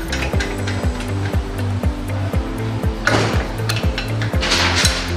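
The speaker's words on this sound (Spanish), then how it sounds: "colocamos las mariposas" Wing nuts being fitted onto a Penagos DH 2 1/2 coffee pulper, with light metallic taps and clinks repeating at a steady rhythm over a constant mechanical hum, plus a brief hiss of rushing noise near the end.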